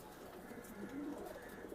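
Racing pigeons, a collection of hens, coo softly and faintly, with a low, rolling murmur of calls under quiet room noise.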